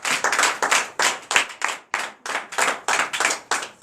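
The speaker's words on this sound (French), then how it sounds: "Donnez l'acclamation au Seigneur Jésus." A church congregation at a night deliverance service in Comè, Benin, claps in acclamation to Jesus with loud, rhythmic hand claps repeating steadily, about three per second, close and without talk.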